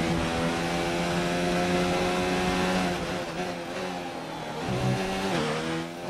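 A Formula 1 car engine in F1 2019 screams loudly and continuously through a qualifying lap, its high revving pitch rising and dipping with gear shifts.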